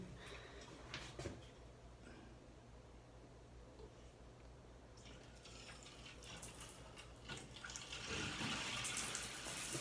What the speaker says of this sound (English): I'm gonna turn it on the faucet upstairs on the shower head itself and show you how much pressure we had before.